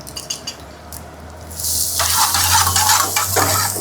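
Green chilies and spices sautéing in a pan in a Pune hotel kitchen: a few quiet clinks first, then a loud close sizzle bursts in and keeps crackling to the end.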